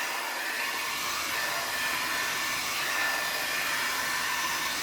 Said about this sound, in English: So gonna go ahead and start blowing my hair out.